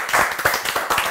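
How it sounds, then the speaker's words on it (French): A small group of people clap their hands together in short bursts of applause at a French live-streamed show, the claps close and fairly loud with no talking over them. "on va applaudir les internautes"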